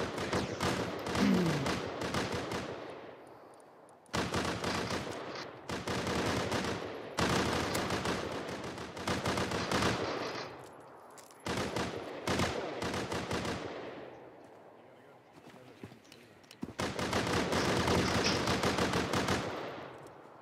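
Rapid automatic AK gunfire in a video game, loud sustained bursts separated by short pauses, close and harsh, with no talking.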